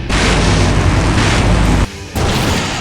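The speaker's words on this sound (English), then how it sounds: "Now that's an explosion, ladies and gentlemen." A massive video game explosion from Full Throttle Remastered, a loud sustained boom with heavy rumble that cuts off abruptly, then a second burst of rolling blast noise follows.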